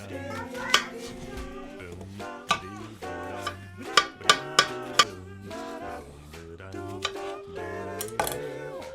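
A knife chopping onion, about ten sharp irregular taps on a board, heard under a bed of tonal music-like sound.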